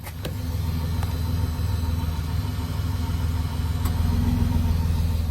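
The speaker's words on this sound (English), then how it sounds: "Probably just that fuel pump working." A steady low electric buzz and hum from a car's fuel pump, continuous and close, with a few faint clicks over it.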